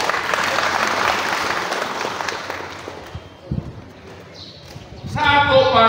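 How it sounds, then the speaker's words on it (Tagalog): Audience at a Lenten religious recollection gives loud, dense applause that gradually fades, followed by someone speaking. "Palakpak na."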